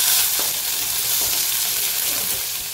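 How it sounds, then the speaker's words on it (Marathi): Onion dropped into hot oil already holding mustard seeds and cumin, a loud, dense, continuous sizzle close by with a few soft stirring knocks, no speech. "कांदा आपण जो घेतलेला आहे तो कांदा घालत आहे."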